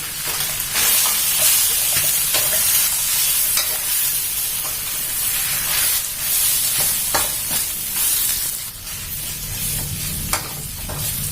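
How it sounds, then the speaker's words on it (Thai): Rice noodles with fresh shrimp, egg and Chinese kale stir-fried in a pan, a loud constant sizzle broken by repeated sharp scrapes and clatters of the spatula, no talking. "เราก็ผัดจนตัวคะน้าของเราสุกนะคะ"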